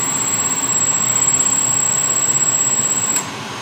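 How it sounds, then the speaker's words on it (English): Radiator cooling fans on a 1973 Impala with a small block Chevy 406 V8 whir in a steady, loud broadband rush with a constant high whine, then drop off abruptly near the end, leaving a softer hum. "I'm just gonna wait till those fans turn off."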